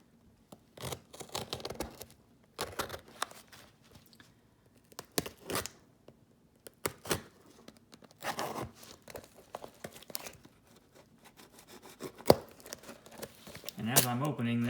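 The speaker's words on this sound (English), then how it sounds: "let's go ahead and cut this one open." A small mail package is cut open by hand, with bursts of slicing, tearing and crinkling packaging in close, irregular spurts, while someone talks intermittently.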